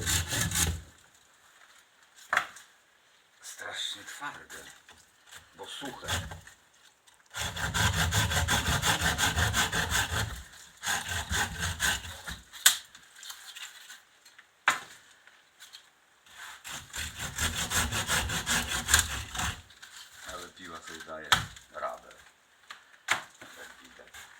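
Folding hand saw cutting through a Christmas tree in several long bouts of steady back-and-forth rasping strokes, close by, separated by short pauses and light handling noises.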